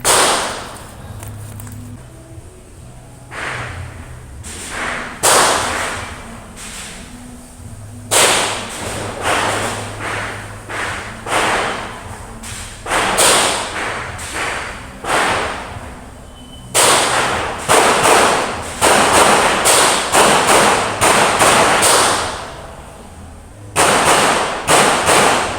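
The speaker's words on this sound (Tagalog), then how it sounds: "Grabing putukan dito guys, araw-araw dito putukan" Heavy outdoor gunfire crackles in loud, sharp bursts, some shots isolated and others in rapid clusters, with echoing reports and short lulls between volleys over a background murmur.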